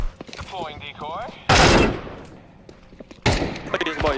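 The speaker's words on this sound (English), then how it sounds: "Throwing the flashbang." A flashbang grenade goes off in a shooting video game: two loud, broadband blasts, each trailing off, set among bursts of game gunfire, with a player's voice talking in between.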